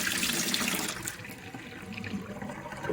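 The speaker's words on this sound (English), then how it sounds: "We are going to pour out any old water." Old water being poured out of a kettle into a kitchen sink, a steady close splashing stream that runs continuously for a few seconds and eases slightly midway.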